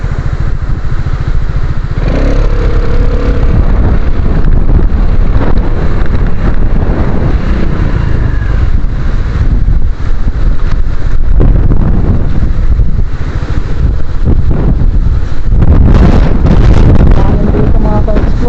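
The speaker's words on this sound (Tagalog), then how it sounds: "Lakas dito ng hangin" Heavy wind buffets the microphone in a constant rough roar, with a motorcycle engine rumbling underneath throughout on an open road.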